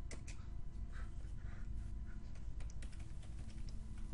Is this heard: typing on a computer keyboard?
yes